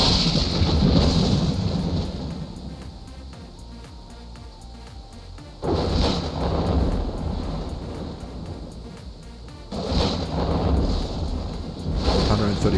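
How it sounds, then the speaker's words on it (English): Thunderstorm in the video game Dawn of Man: rolling thunder bursts over steady rain and wind, with loud rumbles returning several times, partly under a voice. "Thunderstorms coming in."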